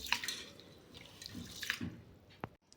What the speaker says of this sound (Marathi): तांदूळ 2 पाण्याने स्वच्छ धुवून घ्यायचे.